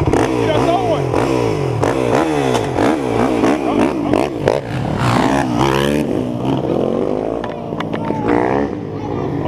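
A Suzuki RM 450 or Honda 450 dirt bike engine revs repeatedly in rising and falling surges, loud and close, with voices talking over it.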